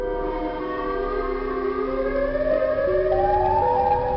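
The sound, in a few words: Siren Head siren wail in video game GTA 5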